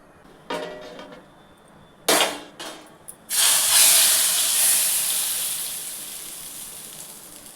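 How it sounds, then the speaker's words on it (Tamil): Vadagam tempering goes into hot oil for a sankara fish kuzhambu: a few short sharp sizzles, then a loud sustained crackling hiss that slowly fades. "வடவம் போட்டு தாளிக்கலாம்."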